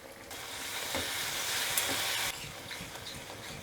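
Onion paste hits hot spiced oil for chole with a loud, dense sizzle that holds for about two seconds, then drops to a quieter, steady frying hiss.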